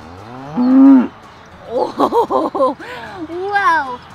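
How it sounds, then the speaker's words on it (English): A cow at a farm pumpkin patch moos once, low and drawn out, then a person speaks briefly and voices a rising moo-like call at the end. "Did you know that's the sound a cow makes?"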